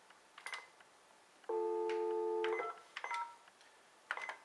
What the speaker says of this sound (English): So what I'm going to do is do a simple fax operation, just dial 20.